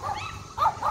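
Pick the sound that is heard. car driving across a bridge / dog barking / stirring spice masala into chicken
dog barking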